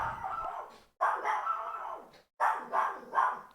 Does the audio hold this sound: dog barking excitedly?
yes